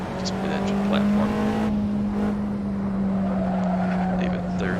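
The tires of an Alfa Romeo 4C slide and squeal in the Assetto Corsa racing game, a long screech layered over a steady droning mid-engine note, with someone talking over it.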